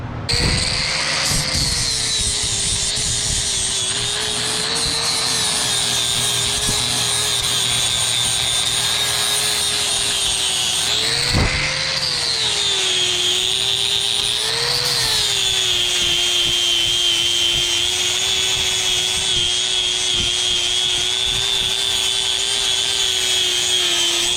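A power tool cuts through the metal of a rusty dairy conveyor, a loud continuous whining grind with a steady pitch that dips and rises as the cut bites, close and unbroken throughout.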